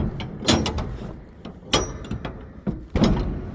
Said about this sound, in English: I'm not a fan of these door latches.